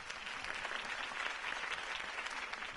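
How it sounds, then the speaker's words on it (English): A crowd applauds a campaign speech in a video game: faint, steady, distant clapping that runs evenly throughout, with no voices. "If only Mr. Wayne, my campaign's largest backer, could have heard that applause"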